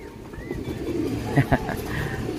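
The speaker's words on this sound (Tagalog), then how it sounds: "Sabay-sabay dumating guys ang mga ibon natin." Racing pigeons arriving together and cooing softly nearby, low murmuring calls with a few flutters, under a busy background.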